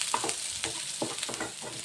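Clams and onion sizzle in a cooker while being stirred, the steady frying hiss broken by soft, irregular scraping strokes close by, with no voices.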